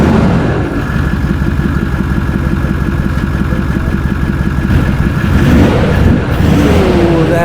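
A Toyota Troopy fitted with a Torqit 3.5-inch exhaust, revving with a deep, grunty drone, loud and close, a steady throaty rumble that swells and eases across the run with no voices over it.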